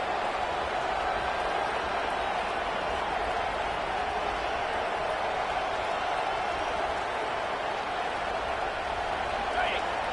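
A football stadium crowd roars steadily at a distance during a goal-line play, a constant wash of noise with no breaks.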